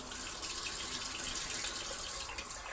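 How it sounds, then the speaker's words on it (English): Water runs steadily from a sink faucet while an aquarium is drained by a siphon into the sink, a continuous close hiss of flow that stays even for the whole stretch. "So I'm gonna turn it back on, let the water flow"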